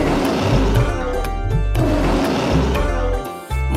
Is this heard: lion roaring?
yes